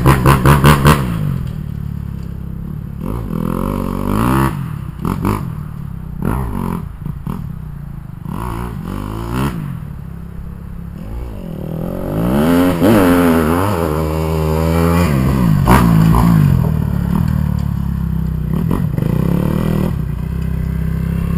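A Kawasaki KX250F dirt bike races around a mini motocross track, its engine revving hard in repeated rising and falling bursts, loud and close, then droning steadily as it passes.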